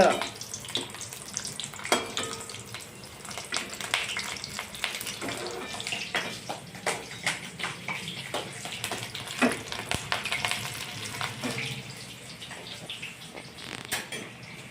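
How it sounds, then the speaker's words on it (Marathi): Two green chillies frying in hot oil for sprouted moth bean and mung bean bhajji, a continuous close sizzle with irregular crackles and spatters, moderately loud, with no speech over it. "आपण दोन मिरच्या तळून घेणे मिरची बरोबर छान लागत"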